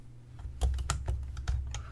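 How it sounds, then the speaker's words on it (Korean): A few separate key presses on a computer keyboard, close and crisp in a quiet room, clicking at an uneven pace. "Shift 홈 누르고"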